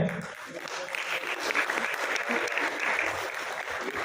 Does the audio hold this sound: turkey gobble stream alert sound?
no